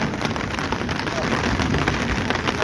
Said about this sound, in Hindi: तो ये जो सिलसिला है तेज़ बारिश का ये सुबह से ही चल रहा है।